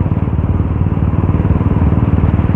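A motorcycle riding along the road to Pondicherry, its engine thrumming in a steady, pulsing beat up close, with no talk.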